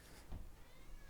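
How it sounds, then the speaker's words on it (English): A house cat lets out a single short, faint meow partway through, quiet against a soft background hiss with no talking. "Your cats are going wild."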